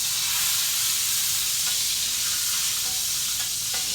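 Breaded green tomatoes and yellow squash fry in hot oil, a steady loud sizzle filling the pan while the pieces are flipped over, with a few faint clicks from the turning.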